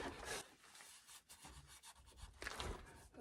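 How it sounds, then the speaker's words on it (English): A green Scotch-Brite pad scrubs a metal part from a Dodge carrier bearing job, quick back-and-forth rasping strokes, close and fairly quiet, heard on their own. "Green Scotch-Brite is always really good for taking some of the old stuff out"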